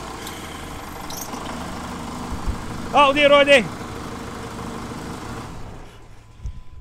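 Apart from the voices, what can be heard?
2008 Jeep Cherokee engine cranked over and running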